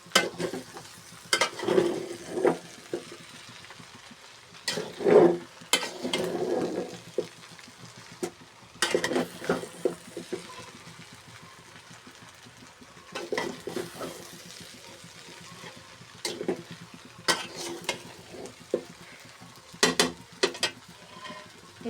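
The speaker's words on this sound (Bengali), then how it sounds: "আমি কিছুক্ষণ ভালোভাবে নেড়ে নিই" Vegetable noodles being stirred in a frying pan, intermittent scraping and tossing bursts over a faint background sizzle, close and moderately loud with quiet gaps between strokes.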